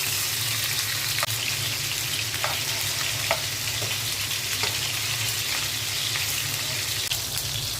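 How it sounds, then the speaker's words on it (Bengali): Flipped hilsa fish keeps frying in mustard oil, an even, close sizzle with faint crackles and a few soft clicks scattered through. "ইলিশ মাছটা উল্টে দিচ্ছি"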